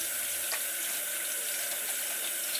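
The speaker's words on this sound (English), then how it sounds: "First thing you want to do is wash them" Loquats are rinsed under a running tap, a steady, close hiss of water pouring into a sink with faint splashes throughout.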